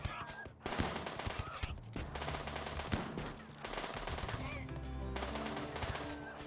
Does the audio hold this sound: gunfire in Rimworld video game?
yes